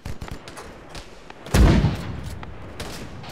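Mortar fire in Arma 3: one heavy, booming launch or impact stands out midway above scattered distant shots and low background rumble, loud and close against a busy battlefield.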